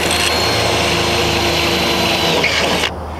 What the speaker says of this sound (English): Now I'm drilling the holes to mount it to the post.